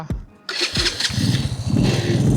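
A self-start motorcycle with gears but no clutch lever cranks and fires up on a roadside trip near the India–Myanmar border, a brief starter whir followed by a close, throaty idle that steadies and grows louder.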